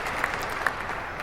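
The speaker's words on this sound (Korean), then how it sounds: "모두 일어나서 기립박수를 치고 있습니다." A dense, steady burst of clapping from a large standing crowd at a presidential inauguration, giving a standing ovation, brief and fairly loud throughout.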